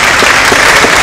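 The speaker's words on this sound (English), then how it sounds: "I think we need to clap a little harder for him." An audience at a student felicitation ceremony at a tutoring institute claps loudly and continuously, a dense close wash of applause with no pauses.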